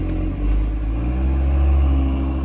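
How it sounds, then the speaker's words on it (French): An Audi RS3 tuned to about 580 hp revs during a launch-control start, a loud, close, deep rumble that holds steady and swells slightly, with no voices over it. "Il fait un launch control là."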